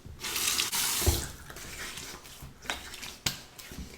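A razor is rinsed under a running tap, with a close splashing stream of water that cuts in and out in several bursts, marked by sharp clicks and brief pauses.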